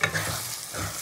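Chicken pieces stirred into masala frying in a pan, with a brief scrape at the start over a steady, close sizzle.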